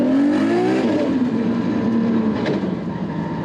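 A Nissan Skyline R32 GT-R with an RB32 engine and a large Garrett G45-1500 turbo accelerates hard in a long first gear, its loud, close engine note rising steadily in pitch with a rough, droning exhaust.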